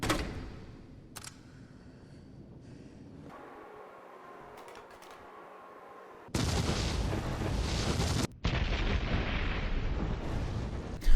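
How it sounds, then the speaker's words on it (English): Mine rounds detonate in Resident Evil 3 Remake, first a quiet stretch with faint clicks and a low rumble, then a sudden loud burst of blast noise that carries on for several seconds, breaks off briefly and resumes. "let's test the mine rounds out"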